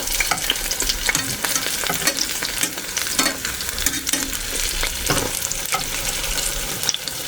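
Pumpkin flower fritters fry steadily in a pan, a dense, continuous sizzle with small crackles and occasional scrapes of a spatula, close and loud with no talking.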